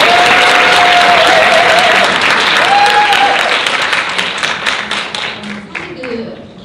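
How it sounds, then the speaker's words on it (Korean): Forum audience welcoming a speaker with loud, sustained applause that gradually fades into scattered claps, with a brief voice over it early on. "우리 최경화 소장님 박수로 맞아주십니다"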